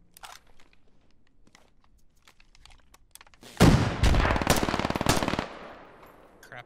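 MG3 machine gun in the game Squad: after scattered distant shots, a loud sustained burst of rapid automatic fire erupts close by for about two seconds, then rings out into echoing reverb.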